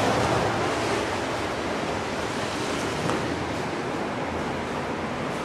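Steady roar of sea surf rolling in on a beach at night in Goa, India, a continuous broadband wash with no voices, fairly loud and close throughout.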